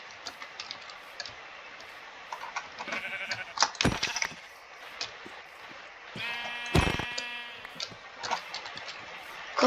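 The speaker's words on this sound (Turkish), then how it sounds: "Yine koyun buldum." Sheep in the Minecraft video game bleat several times in short, wavering calls, mixed with sparse keyboard-like clicking in an otherwise quiet background.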